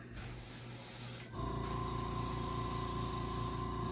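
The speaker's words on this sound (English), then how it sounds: "get the airbrush going here." An airbrush sprays primer onto fishing bait with a steady close hiss, then the pitch steps into a fuller, buzzing hum as the flow picks up and runs on continuously.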